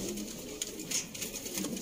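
Sialkoti 35 pigeons coo softly in a short burst of low, throaty calls, close by with faint background noise and no talk.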